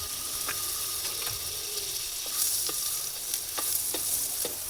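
Butter sizzles steadily in a hot, large frying pan, a close, continuous crackling hiss with faint scattered ticks throughout and no voices.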